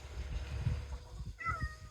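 A cat on a homestead in northern Spain gives a faint, brief meow toward the end over low outdoor rumble and background noise.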